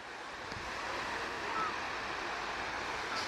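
A waterfall pours in a constant broad rushing roar, steady and moderately distant, with faint wind noise on the microphone and no talking over it.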